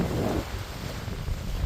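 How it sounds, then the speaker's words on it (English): Wind gusts over a small sailboat heading out of Fowey under sail with no engine, a steady close rush of air noise with a low, rumbling buffet against the microphone. "Got a beautiful breeze."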